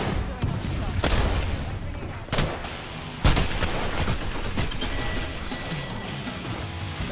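Gunfire and grenade blasts from the Apex Legends battle royale shooter, with dense, continuous combat noise and several sharp loud bursts among steady firing, while players talk over the action.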